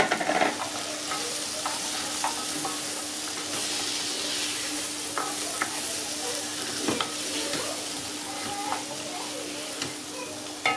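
Washed fava beans go into a hot frying pan with oil and lemon juice, producing a constant close sizzle punctuated by repeated scraping stirs and a few sharp utensil taps, with no talking.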